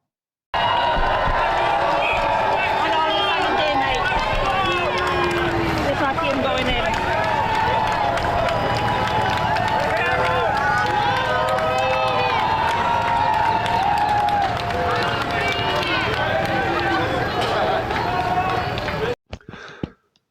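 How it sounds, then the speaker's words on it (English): Large outdoor crowd reacting to Zelensky, loud and continuous with cheering and shouting blended with booing and jeering, a dense sustained roar lasting nearly the whole stretch before cutting off abruptly. "There was cheers, yes, but there was plenty of boos. There was plenty of jeering."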